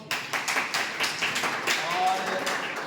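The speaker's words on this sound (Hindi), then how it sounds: "विवेक महल, ताली दो।" Students in a classroom at a Hindi high school clap together, a quick run of crisp, even claps lasting a few seconds, with voices murmuring underneath.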